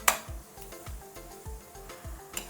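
Tomato pickle being stirred in oil in a pan: a soft steady sizzle with regular rhythmic scraping strokes roughly every half second and occasional sharper clinks of utensil against the pan.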